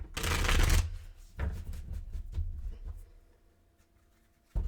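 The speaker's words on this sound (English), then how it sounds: "I've been shuffling for a bit now." Tarot cards being shuffled close up: a loud riffling burst, then softer shuffling and tapping, fading before a final sharp snap.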